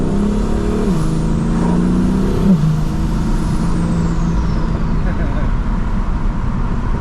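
A BMW F80 with a VRSF mid pipe and Vibrant resonator exhaust drones steadily as the car drives, with a low, constant rumble and a brief rise and dip in engine pitch, heard from inside the cabin.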